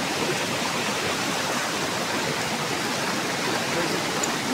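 A canyon waterfall roars as a dense, unbroken rush of water, loud and close, holding an even level throughout with no other sounds standing out.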